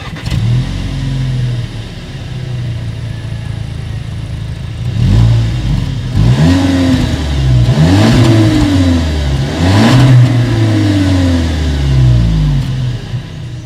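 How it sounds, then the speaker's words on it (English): A 2019 Volkswagen Arteon with dual chrome-tipped exhaust idles steadily, then is revved several times in quick succession, each rev swelling loud and close before settling back. "As always, here is that exhaust clip."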